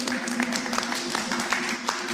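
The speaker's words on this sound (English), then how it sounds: "give him a round of applause now, come on." Audience applause at a North London emergency response meeting for Hurricane Melissa in Jamaica, a soft, steady patter of many hands clapping, fairly distant and low in level.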